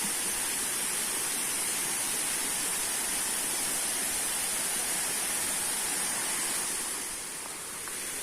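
Waterfall at Ang Chang Nam in Ban Bueng, Chonburi, a steady broadband rush of falling water that carries on without a break and softens slightly near the end, with no voices over it.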